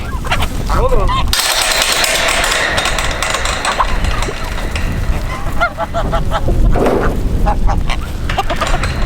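Loud, harsh goose honks repeat close by in a busy farmyard with chickens, the calls overlapping in noisy bursts with a little speech.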